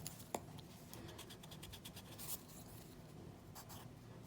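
Pen or pencil writing out algebra by hand on paper, a steady run of soft scratchy strokes with a sharp tap early on, close and quiet, with no talking.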